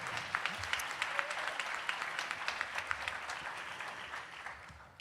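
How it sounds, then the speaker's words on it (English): Warm applause from the audience at a Black Caucus of Faculty and Staff awards event, steady dense clapping from a mid-sized crowd that holds throughout and fades slightly toward the end. "let's give my soror a warm round of applause in her absence"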